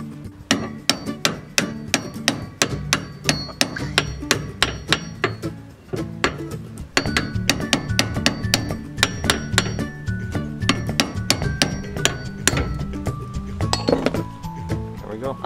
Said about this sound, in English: You'll have to tap it out with a hammer and a punch.